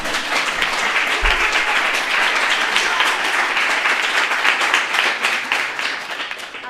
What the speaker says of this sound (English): You can really clap now.